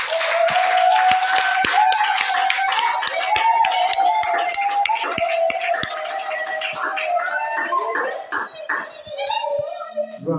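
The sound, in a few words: congregation applauding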